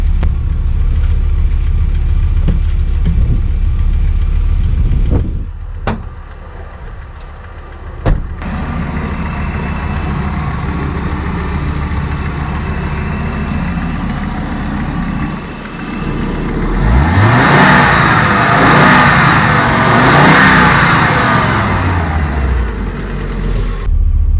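An Audi Coupe engine running warm at idle, steady and close, with a few sharp throttle blips and a rising rev toward the end as the cooling fan whirs alongside; no one talks.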